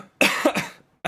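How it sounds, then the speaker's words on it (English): A lingering cough left over from an illness, two harsh close bursts in a row followed by the start of a third, loud and with no talk over it. "I still have a lingering cough from the sickness"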